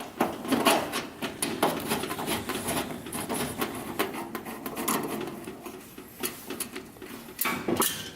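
A screw is taken out of the control panel of a dual fuel range, heard as a string of close metallic clicks, taps and small clattering knocks at an irregular pace.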